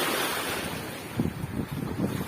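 Sea waves wash onto a rocky beach in Morocco, a steady wind-blown roar with a few soft surges of surf breaking close by, and no voices.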